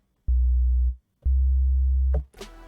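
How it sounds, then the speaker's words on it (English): Two deep, sustained sine-wave 808 bass tones synthesized in Bitwig Studio, each starting with a faint click and fading out, followed by a brief burst of noise. "So this is a basic sine wave."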